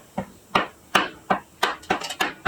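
A hammer strikes fossil crab concretions to crack them open, eight sharp, close knocks at a fairly steady pace with brief ringing after each blow.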